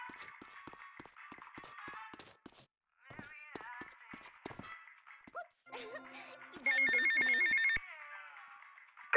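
A payphone rings in GTA Vice City, a steady electronic ring breaking in near the end after stretches of in-game character speech and street noise.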